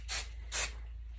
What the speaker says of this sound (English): I'm going to add a little hairspray